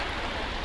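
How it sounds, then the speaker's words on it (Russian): Sea waves washing steadily on a beach, a soft continuous broadband wash with no distinct breaks, heard briefly and alone. "Волна пошла."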